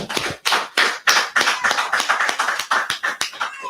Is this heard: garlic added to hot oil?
no